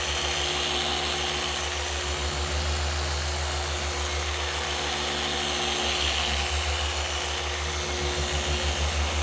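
A machine polisher runs on a car's quarter panel paint with a one-step polish, giving a steady, continuous motor whir and hum that stays even throughout, with no talking.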